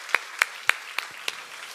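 A church congregation at a Sunday service gives a few sparse, separate claps, about five distinct hand claps spaced out over a couple of seconds rather than full applause.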